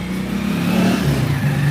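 A KYMCO Xciting S400i scooter engine revs steadily close by, a sustained mid-pitched drone that rises slightly in pitch partway through, with no talking over it.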